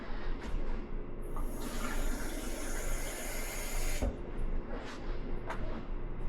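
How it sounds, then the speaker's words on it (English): Water runs steadily from a tap into a rice cooker pot for several seconds, a continuous close hiss and splash with a brief break near the middle, no voices. "So we'll add in that 1 cup of water"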